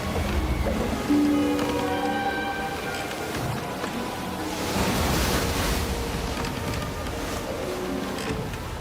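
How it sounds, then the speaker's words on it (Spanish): A stormy sea surges with broad waves and a strong wind in a steady, full roar. A few tonal notes ring faintly underneath. "el mar estaba agitado porque soplaba un fuerte viento"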